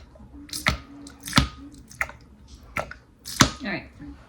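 A bottle of vanilla being squeezed while cooking, giving several short, wet squishy squirts spaced a second or so apart, close by, with voices talking in between.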